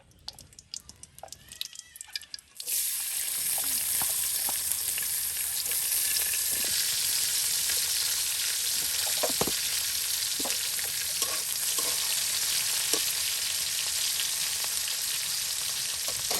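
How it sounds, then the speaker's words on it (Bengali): Loud, continuous sizzle of garlic and cumin frying in oil in a pan, starting abruptly after a few seconds of quiet clinks and staying steady, with occasional stirring scrapes and a faint cat meow. "এই যে একদম রসুন তার সাথে জিরা একদম ভেজে নেওয়া হলো"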